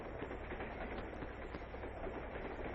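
A passenger train rolls steadily along its rails with a dense, continuous rumble and rhythmic clatter heard from inside, loud and unbroken with no voices.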